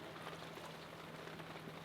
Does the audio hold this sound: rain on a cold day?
yes